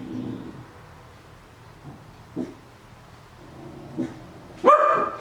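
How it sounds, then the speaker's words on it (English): A dog gives a few scattered, faint barks in the distance, then one louder bark near the end. "Stop barking."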